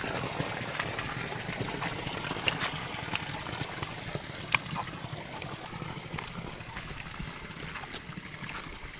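Clear, cold spring water flows steadily from its source, a continuous soft trickle and gurgle close by with faint hiss throughout and no voices.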